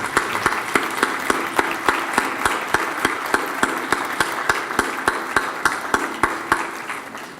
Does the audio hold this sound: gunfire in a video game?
no